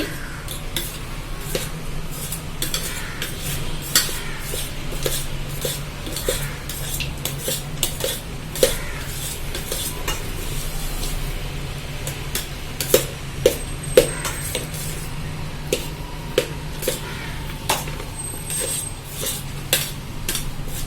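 Laddu ingredients being mixed in a bowl in a home kitchen, with soft squishy handling and scattered clinks against the bowl, close and moderately quiet with a low steady background hum.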